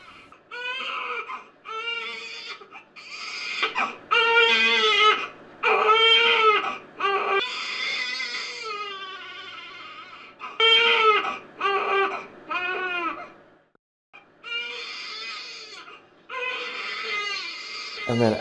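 An infant cries in repeated wailing bursts with short gasping pauses between them, loud and close, continuing throughout with no other sounds.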